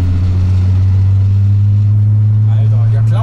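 A loud, close VR6 car engine drones at a steady pitch as it is held in second gear, in a car that rattles, smokes and smells.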